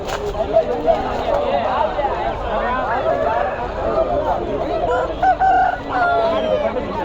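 An aseel rooster crows at the Pileru poultry market, a drawn-out call rising over a busy crowd with steady chatter and clucking nearby.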